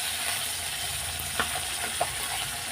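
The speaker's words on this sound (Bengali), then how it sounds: "এদিকে দেখো মাছটা ভাজা বসিয়ে দিয়েছি" Bata fish fries in a pan with a steady, even sizzle and hiss throughout, broken by a couple of small pops, close and unaccompanied by talk.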